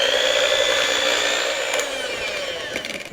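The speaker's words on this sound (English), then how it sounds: "we're going to use electric mixer on this anyways" An electric mixer whirs steadily through chocolate chess pie filling, a loud, close, constant high whine whose pitch sags slightly as the beaters meet the thick batter, with some rattling toward the end.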